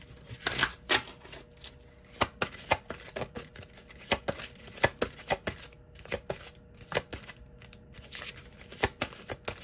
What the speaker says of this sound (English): These cards are so tiny. I'm trying to shuffle.